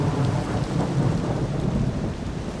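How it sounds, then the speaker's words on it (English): Rain and thunder in a Minecraft-style video game: a steady wash of rainfall with deep rolling thunder underneath, continuous and fairly close, with no voices. "So, oop, it's raining outside."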